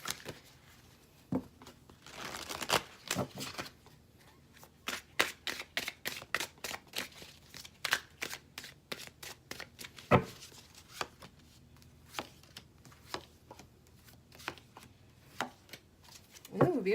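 An Oracle of Oddities oracle card deck being shuffled by hand, a series of soft, sharp riffles and card snaps scattered irregularly over quiet background, close and fairly faint.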